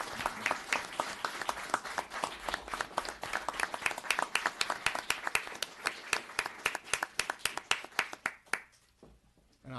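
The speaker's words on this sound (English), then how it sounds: "Can I get a nice round of applause for everybody up there?" Applause from a town board meeting audience honoring people up front, many hands clapping steadily at moderate loudness for several seconds before tapering off to a few scattered claps and quiet.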